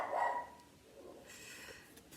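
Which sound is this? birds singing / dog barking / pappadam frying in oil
dog barking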